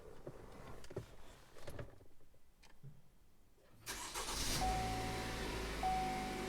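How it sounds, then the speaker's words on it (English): A GMC Acadia engine cranks and catches after a few faint clicks and handling noises, then settles into a steady, close idle hum. "now I should be able to start the vehicle as normal"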